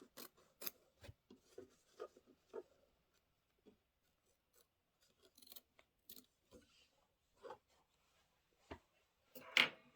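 Scissors trimming black quilting fabric for a pillow block: a handful of faint, sparse snips and small rustles spread across a quiet room, with one slightly louder cut near the end.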